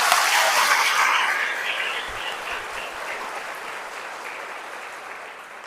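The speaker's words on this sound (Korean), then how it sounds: "성령을 사랑하는 여러분들이 위해서 박수 한번 쳐보세요." A church congregation in the Jeonju diocese bursts into loud applause. The clapping swells at first, then tapers gradually as it fades.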